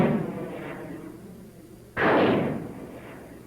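A surplus Air Force rocket fires from a homemade launcher with a sudden loud whooshing blast that rushes and fades over a second, following a softer earlier burst of roaring noise.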